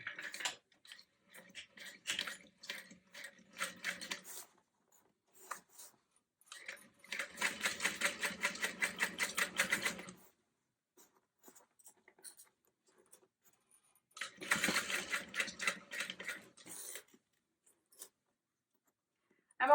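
A sewing machine bastes around the outside edge of a bag at a long stitch length, running in several separate bursts of rapid, light ticking with quiet pauses between them.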